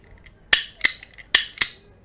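A lock pick gun with needles snaps on a standard Euro cylinder lock, four sharp metallic clacks in two quick pairs, close and crisp against near silence.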